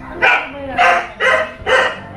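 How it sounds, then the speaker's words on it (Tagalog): A single dog barking close and loud, four sharp barks in a steady rhythm about half a second apart, with no one talking over them. "Oh, may isang aso umaapa."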